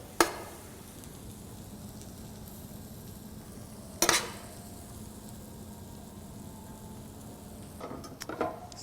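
Shrimp sizzle steadily in a hot pan as alcohol cooks off, a soft continuous fry broken by a few sharp utensil clinks against the pan.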